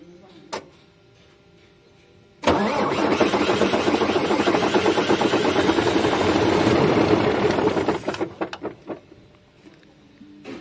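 A MAN TGA truck engine with a low-pressure EDC starting fault cranks, then catches and roars loudly for several seconds before faltering and dying into uneven sputters, with a sharp knock shortly beforehand.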